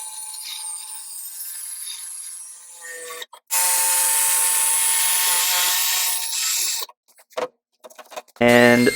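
A jigsaw cuts a hole for a pull-out trash can's waste barrel through a wooden panel, starting from drilled holes at the corners, with a steady, loud close-up buzz that stops and restarts several times.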